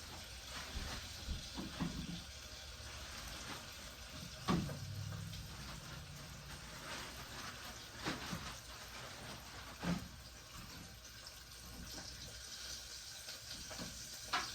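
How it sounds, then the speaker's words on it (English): Pig tails deep frying in a skillet make a soft, continuous sizzle and hiss, with occasional louder pops and clatters breaking through the steady bubbling. "You can just fry them just like that."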